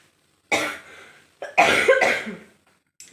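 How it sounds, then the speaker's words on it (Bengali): A person coughs close to the microphone in harsh bursts: one cough, a pause, then a run of two or three deeper coughs, with another cough starting at the end, in a quiet room. "যেই একটু কথা বলছি না সেই কাশিটা লাগছে"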